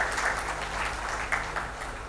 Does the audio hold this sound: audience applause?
yes